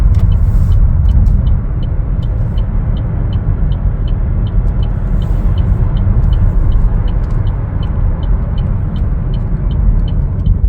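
A 2023 Chevrolet Trailblazer RS driving, heard from inside the cabin: a loud, steady low road and engine rumble with a faint regular ticking above it, and no talking.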